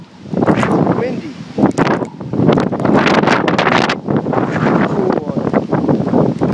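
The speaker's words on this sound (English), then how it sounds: "Windy." Strong gusts from Tropical Storm Gonzalo in Antigua buffet the microphone in loud, rumbling bursts, nearly continuous with brief lulls between gusts.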